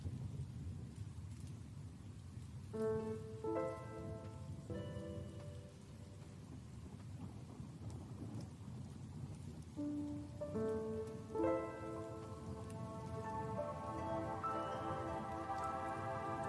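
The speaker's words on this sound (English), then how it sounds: "Rain sounds." Steady rain with rumbling thunder plays quietly in the background, a soft continuous wash with low rolling peaks, while separate musical tones sound over it at intervals.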